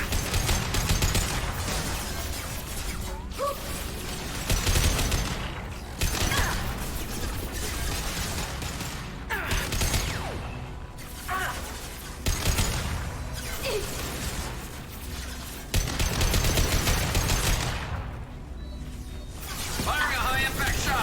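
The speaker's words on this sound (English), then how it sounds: "Firing a high-impact shot!" Bursts of gunfire from Mass Effect 2 combat, loud broadband blasts recurring every few seconds with metallic mechanical clatter between them, under game voices calling out.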